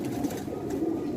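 Domestic pigeons kept on a rooftop coo in a low, soft, rolling murmur, steady and fairly close, with no talking.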